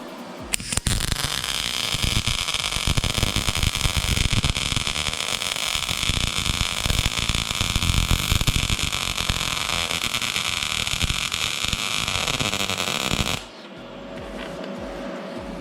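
A YESWELDER MIG-205DS MIG welder laying a test weld, a loud, continuous crackling buzz that holds steady for about thirteen seconds, then cuts off abruptly to quieter background noise.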